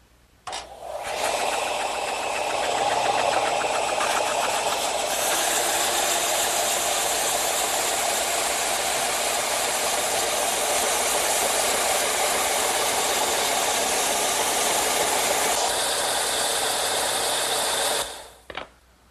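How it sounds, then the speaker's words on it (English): A vertical belt sander tapers the edges of a wooden candle stand. The motor spins up and runs with a loud, steady whine and grinding rasp, then winds down abruptly near the end. "to do that, I'm going to use my vertical belt sander"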